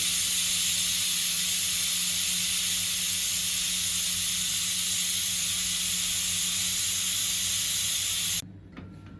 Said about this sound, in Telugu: కుక్కర్లో ఉన్న గ్యాస్ మొత్తం బయటికి తీసేసి